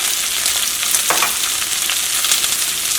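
Fried rice turned and stirred in a pan with salt, a steady close-up sizzle with soft scraping strokes running throughout, no voices.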